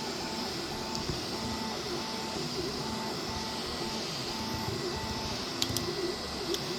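A Sovol SV07 3D printer runs steadily mid-print with a continuous mechanical hum and a repeating, evenly pulsed whine, plus a few faint ticks near the end.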